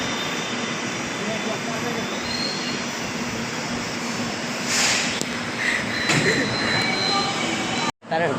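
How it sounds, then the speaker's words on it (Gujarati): Metro train pulling into a station, a steady loud rumble of wheels on rails with rising squeal near the end, ending in a brief cut-off. "મેટ્રોમાં ઉતરી ગયા અને આવી આપણી ટ્રેન"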